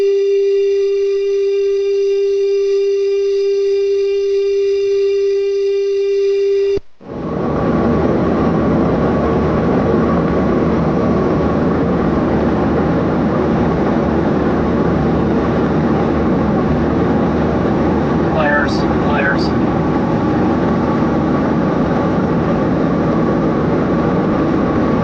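Roar from a Chinese PLA fighter jet intercepting US aircraft over the Indo-Pacific: a steady tonal hum gives way to a loud, continuous broadband engine roar with a brief whistling sweep near the end, and no voices.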